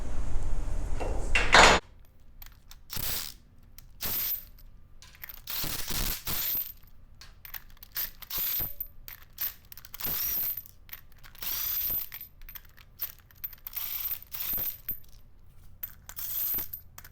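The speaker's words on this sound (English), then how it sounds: "First, we're going to want to take off all the bolts and then put in our stud" Bolts being removed from a T100/Q155 low pressure diaphragm, heard as repeated close metallic clinks, clatters and ratcheting scrapes in irregular bursts after a loud opening noise.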